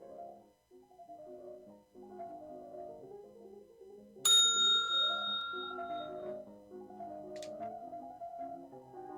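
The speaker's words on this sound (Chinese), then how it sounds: "再听一个铃声" A single bright bell ding for exam station timing rings out clearly and rings down over a few seconds, with soft background music playing throughout and a faint second chime later.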